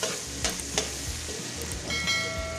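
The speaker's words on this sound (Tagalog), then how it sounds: "Gisa-gisa lang po natin." Onions sautéing in a pan as beef is roasted with vegetables, a steady broadband sizzle broken by a few sharp stirring scrapes, close and fairly quiet, with no talk.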